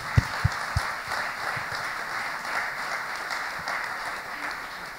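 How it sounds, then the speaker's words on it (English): An audience applauds steadily at an arts photography event, a dense wash of clapping running the full length with a few sharper close claps near the start. "So I'd like to give applause to the city and to Tanika."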